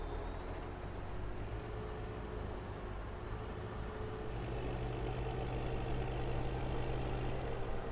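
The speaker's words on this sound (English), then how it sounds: "Except for that one tractor that's running." A tractor engine in the farming game Pleasant Valley runs at a steady idle, a continuous low rumble with faint higher whine, unchanging throughout with no talk.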